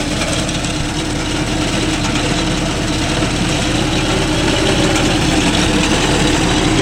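A John Deere 5105 tractor engine runs steadily close by on farmland, a loud continuous low diesel rumble with mechanical vibration and no break across the whole stretch.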